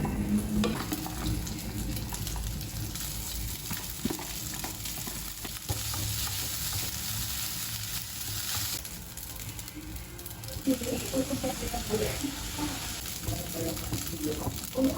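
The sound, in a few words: stirring and frying food in a pan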